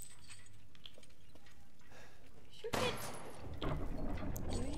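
Gunfire in the video game Resident Evil Village: after a quiet stretch, a loud burst of shots breaks out, with a second blast soon after, both close and sharp.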